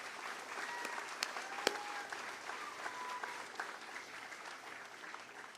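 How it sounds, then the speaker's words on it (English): An outdoor crowd at the Fancy Farm Picnic in Kentucky applauds politicians throughout. The clapping is steady and fairly distant, with a few sharper claps and faint cheers standing out and no speech over it. "That deserves a round of applause."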